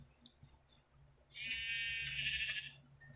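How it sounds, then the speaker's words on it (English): Sheep bleat in a survival video game, with short chirpy game sounds first and then a long, wavering bleat that sits fairly close and clear over quiet background. "Ooh, sheep."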